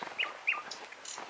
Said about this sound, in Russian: Соловьи поют. Слышите?